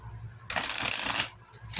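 A deck of tarot cards is shuffled up close in one loud riffle of about three-quarters of a second, with no talk over it.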